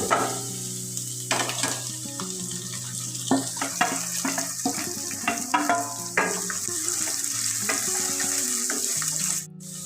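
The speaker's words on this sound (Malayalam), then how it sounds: "ഇഞ്ചി വെളുത്തുള്ളി നന്നായിട്ട് മൂത്ത് വന്നതിന് ശേഷം നമുക്കിതാ സവാള ഇട്ട് കൊടുക്കാം" Onions dropped into a pan with fried ginger and garlic give off a strong steady sizzle, with scraping stirs and spoon knocks against the pan throughout; no one speaks.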